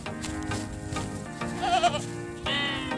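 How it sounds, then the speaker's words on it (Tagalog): A newborn goat bleats in short, wavering cries over a steady background hum, with a second, louder bleat near the end. "Ito, nakita po tayo ng bagong panganak na kambing."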